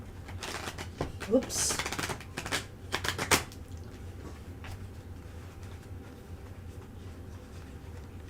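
Tarot cards are shuffled in quick, papery riffles and flutters, faint and close, over low background room noise, with a brief spoken word in the middle.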